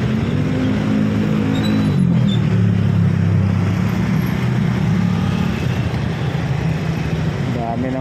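Heavy, congested road traffic on EDSA near Santolan, Metro Manila, with many cars and motorcycles, a loud steady rumble of engines and revving close by throughout, with no talk over it.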